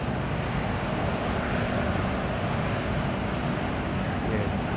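An airliner, BA998, taxis at London Heathrow Airport on a very early morning, giving a steady, broad jet roar that holds at an even, fairly loud level throughout.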